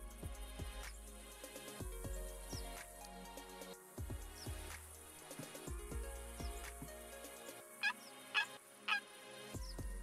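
Wild turkeys in the hunting game theHunter Classic, with repeated loud gobbles and clucking calls in bursts over an outdoor ambience, several sharp calls clustered near the end.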